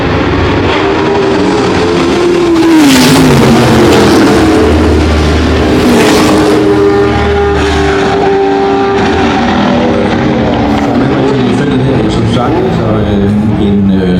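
A March 822 Formula 2 race car with a 2-litre BMW engine at a classic car race. Its engine drones loudly and continuously, with the pitch rising and falling as it runs.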